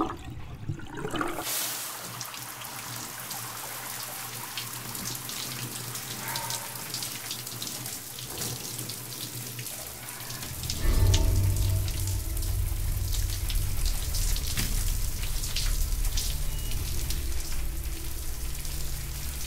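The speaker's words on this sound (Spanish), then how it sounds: "Prefiero darme una ducha" A shower runs with a steady, full hiss of falling water that swells louder about halfway through and keeps pouring alone, with no voices over it.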